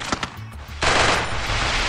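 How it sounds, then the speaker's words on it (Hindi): Shotgun fire in the battle royale game Garena Free Fire Max, a loud burst of gunfire kicking in partway through and running continuously to the end after a few quieter shots at the start. "भाई इतनी दूर से शॉटगन चला रही हूँ"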